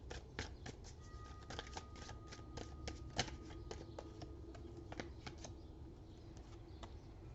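Oracle cards handled during a reading, a rapid run of crisp papery flicks and shuffling snaps, close and fairly quiet, with no talk.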